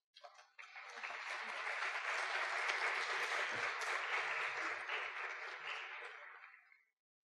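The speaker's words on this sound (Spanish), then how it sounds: "Reciba un cordial aplauso," A brief patter of a few claps, then a full round of applause from a lecture audience welcoming a speaker, sustained for several seconds before fading and stopping abruptly.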